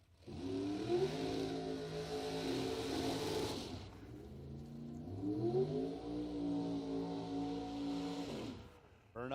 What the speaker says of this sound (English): Burnouts are complete.